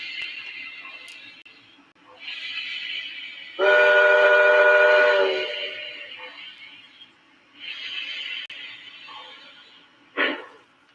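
A model live steam train runs with rhythmic chuffing and a bright whistle-like tone in the middle, loud and close, with bursts of steam hiss between quieter stretches and no talk.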